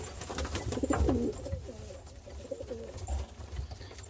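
Doves or pigeons in an aviary give soft, repeated rolling coos, several overlapping calls at close range against a faint background hum.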